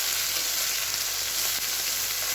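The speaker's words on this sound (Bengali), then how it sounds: "এখানে 4টি চুনো মাছ আছে, চুনো মাছগুলো ভাজছি" Four small chuno fish fry in hot oil, a steady, close sizzling crackle that fills the whole moment.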